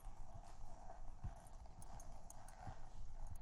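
Hooves of a horse being ridden clip-clop in a steady rhythmic gait, moderately close with faint ambient noise and no talk over them.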